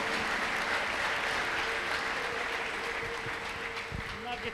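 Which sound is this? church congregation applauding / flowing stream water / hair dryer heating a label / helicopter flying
church congregation applauding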